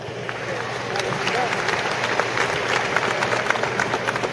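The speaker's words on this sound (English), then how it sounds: "you should applaud yourself for that." Graduation audience applauding at a Bladensburg High School ceremony, a dense, sustained wash of clapping from a large crowd at moderate distance, with some murmur mixed in.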